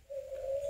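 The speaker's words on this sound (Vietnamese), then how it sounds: "Xin thưa với các bạn, đây là con chim đa đa." A tame Chinese francolin (đa đa bird) gives a single short, steady tonal call, lasting under a second, close by and fairly quiet, with no voices over it.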